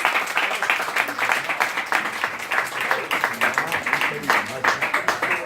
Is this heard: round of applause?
yes